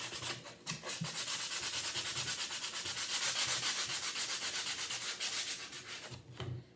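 Steady rubbing rasp of sandpaper working painted wood on a rustic wooden heart craft, stripping paint down to bare wood, continuous and close with brief pauses near the start and end.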